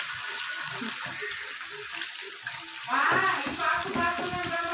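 Garlic kebab pieces fry in hot oil with a steady, close sizzle and hiss. A voice speaks over it toward the end.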